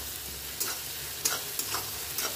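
Tomatoes fry in a pan with a steady sizzle while a spoon stirs them, giving several short scraping knocks spread across the clip, close and at moderate volume, with no one talking.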